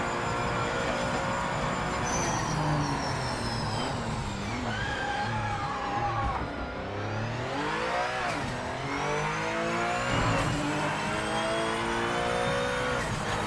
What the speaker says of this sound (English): the tire noise is a bit too much out there